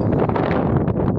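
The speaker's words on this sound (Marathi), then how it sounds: "वारा सुटले, आवाज जरा कमी येत असं." Wind buffets the microphone with a loud, low, blustery rumble that fills the short moment without a break.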